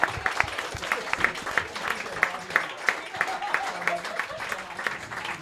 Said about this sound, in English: Clap it up for both these guys, guys.